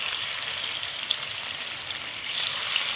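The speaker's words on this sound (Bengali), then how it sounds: "তেল গরম হয়ে গেছে, আমি মাছগুলো দিচ্ছি। এই মাছগুলো হালকা করে ভাজবো" Catla fish pieces sizzle gently in hot oil in a pan, a steady bright crackle with occasional small pops, close and alone without voices.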